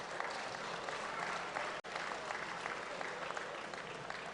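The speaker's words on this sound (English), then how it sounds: "Give them a big round of applause." Applause from a crowd at a road tennis championship finals event, a steady wash of clapping that carries on throughout, with one brief cut partway through.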